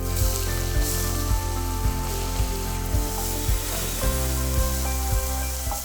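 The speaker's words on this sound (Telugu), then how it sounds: "ఏదైతే ఎగ్స్ ఫ్రై చేసుకున్న ఆయిల్ ఉందో దాంట్లోనే బాగా ఫైన్గా చాప్ చేసుకున్న ఆనియన్ని యాడ్ చేసుకోండి." Finely chopped onion frying in hot oil left over from frying eggs for egg masala curry, a continuous sizzle and hiss under a steady, regularly pulsing hum with occasional soft scraping.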